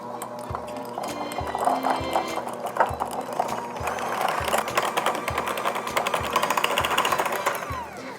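An electric mixer creams butter and cream cheese at room temperature with a steady loud whirring buzz, beaters clattering rhythmically against the bowl throughout.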